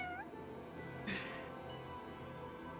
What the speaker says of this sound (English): Yes, a cat we can finally adopt.